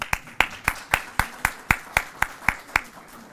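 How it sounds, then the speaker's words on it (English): An audience at a recognition breakfast claps in a sparse, even rhythm, about a dozen distinct, fairly close claps rather than a full roar, with no talk over them. "I think that's worthy of an applause."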